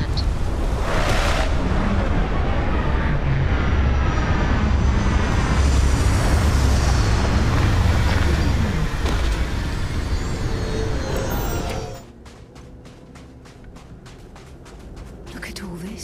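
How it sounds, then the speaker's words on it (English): A spaceship touching down in the video game Starfield, a loud sustained roar of engines and rushing air that cuts off abruptly, leaving a quieter ambient hum with faint ticking. "Gearbox green, ready to land."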